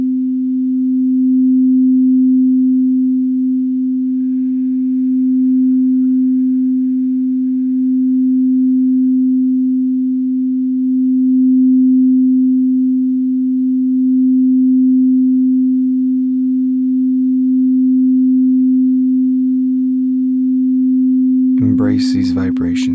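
A singing bowl rings out as one pure, sustained low tone with gentle swells in loudness for over twenty seconds. A voice briefly starts speaking right at the end.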